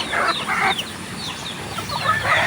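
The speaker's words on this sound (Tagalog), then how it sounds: "kanya na pong papapasukin yung mga manok" Native chickens cluck and squawk close by, several birds calling in short overlapping bursts against a noisy outdoor background.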